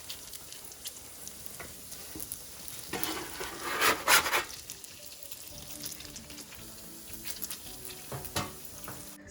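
Doughnut dough frying in hot oil, a soft continuous sizzle with a brief louder bubbling burst midway as the dough drops in, plus faint scraping and handling noises.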